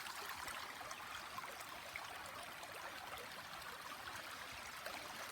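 A shallow natural creek runs steadily through a rural area, its water gurgling and trickling in a continuous broad wash with no breaks, close by and fairly loud.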